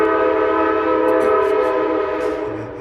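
Loud train horn sounding at night near a trail, a sustained chord blaring steadily and close before fading slightly toward the end.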